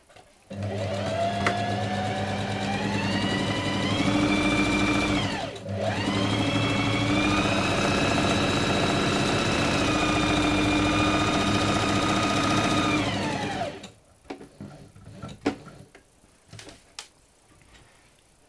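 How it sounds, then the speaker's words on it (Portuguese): A sewing machine stitches a seam around a fabric bread bag in long steady runs, its whine rising and falling in pitch, pausing briefly once, then stopping, leaving scattered handling clicks. "vamos fazer uma costura aqui a toda a volta, até aqui."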